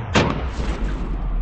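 A cannon fires a professionally loaded fine chain shot into a pineapple, one sharp, loud boom followed by a rumbling tail that decays over about a second.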